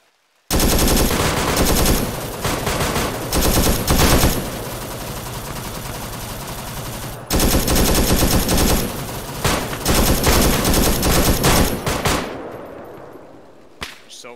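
Sustained automatic gunfire in the video game Arma 3 during a Vietnam mission, loud dense bursts of machine-gun fire with brief pauses, continuing for most of the stretch before trailing off.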